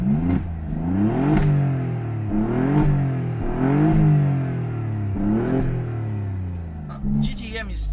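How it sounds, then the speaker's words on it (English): An Alfa Romeo Giulia GTAm with an Akrapovic exhaust, in race mode with the valves open, is revved repeatedly while stationary: about five sharp blips climb and fall in a loud, rhythmic sequence close by. "let's fire up the engine, let's hear this Akrapovic"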